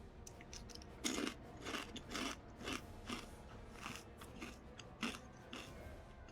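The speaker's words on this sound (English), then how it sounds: "We'll get to Sally's when I'm done chewing" Someone chews a crunchy snack close up, giving quiet, irregular bites and crunches in a steady rhythm with no talking.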